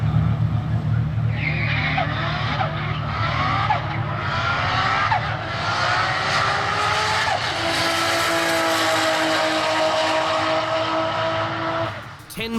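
A Nissan RB26-powered budget supercar roars down a drag strip at full throttle, its engine note climbing steadily and loud throughout, with tire noise and a brief drop at the end as the run finishes.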